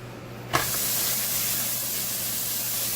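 Bacon hits a hot pan with a sudden burst, then sizzles and hisses loudly and steadily from close by, with no talk over it.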